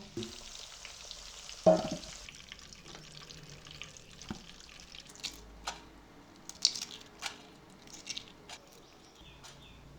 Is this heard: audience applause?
no